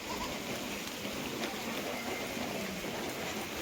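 Steady rain falling, a soft even hiss with faint patter, continuous and moderately distant.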